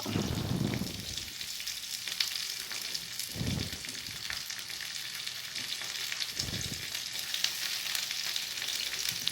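Onion, curry leaves and green chillies sauté in hot oil with a steady, close sizzle for semiya upma, broken by three low scraping stirs.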